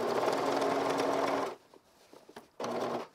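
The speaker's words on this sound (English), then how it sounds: "I'm sewing this from the exterior so that I can make sure I get it nice and neat on the exterior." Sewing machine stitching a lined vest from the exterior: a steady close whir for about a second and a half, a quiet pause with faint handling, then the motor runs again briefly.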